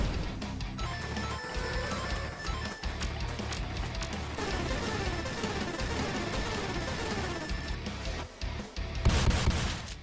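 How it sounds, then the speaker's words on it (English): Rapid, dense gunfire from a multiplayer gallery arcade shooter game crackles continuously at a moderate level, with a thick stream of shots and effects that briefly thins near the end. "This is a gallery arcade shooter where you clear out the screen of enemies"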